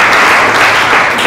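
Loud, dense applause fills a church service, a steady wash of many hands clapping together without pause and no voices rising above it.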